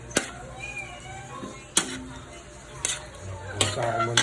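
Squid adobo ingredients are sautéed in a pan, with a few sharp utensil clanks against the pan over a low sizzle and a brief voice heard faintly.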